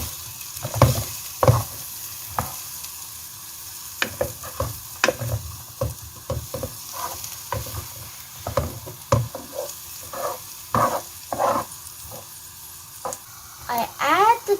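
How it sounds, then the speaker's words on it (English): Onions frying in oil for a broad bean and mutton pilaf, with a steady sizzle broken by repeated sharp stirring scrapes and clanks of a utensil against the pan. "Now I add some oil to the onions."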